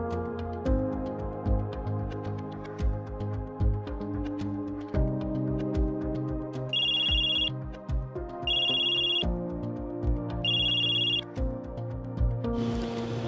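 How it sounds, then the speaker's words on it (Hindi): A mobile phone ringtone plays loudly and repeatedly, a rhythmic electronic melody with three bright chiming bursts over a steady beat, heard alone with no talking. "अरे साहब का फोन, साहब ने फोन कर दिया।"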